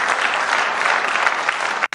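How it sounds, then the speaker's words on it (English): A burst of dense, loud applause from a crowd, continuous and even for about two seconds before cutting off abruptly. "Yes, a round of applause."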